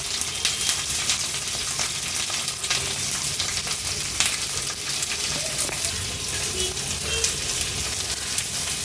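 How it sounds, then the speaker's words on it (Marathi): Garlic cloves and green chilies sautéing in oil over a high flame, a dense, continuous loud sizzle with faint crackles throughout, heard close. "लसूण आणि मिरची छान आपण परतून घेऊया। गॅसची फ्लेम मी हायवर ठेवली आहे।"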